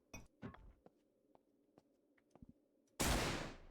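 Shotgun blast in the video game Aneurism IV, one loud close shot ringing out and decaying at the end, after a run of faint clicks and clinks over a low hum.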